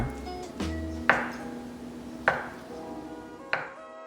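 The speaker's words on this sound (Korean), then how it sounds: "두부 한 무는 반을 갈라서 1cm 두께로 편썰고" A knife cuts through a block of tofu into 1 cm slices on a cutting board, three distinct, evenly spaced thuds with faint ringing between them and no talk.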